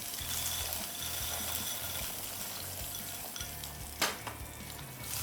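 Dry pasta, about 300 grams, tipped into a cooking pot for white sauce chicken pasta, a continuous sizzling, bubbling wash with a brief louder clatter and splash near the end.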